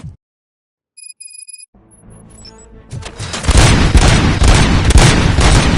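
Gunfire erupts in Robocop: Rogue City, building from a few electronic beeps into a loud, dense barrage of booming shots and explosions that continues without letup.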